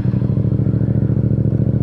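A Yamaha motorcycle fitted with a full Akrapovic exhaust idles right after starting, a loud, close, throbbing rumble with rapid regular pulses and no talk.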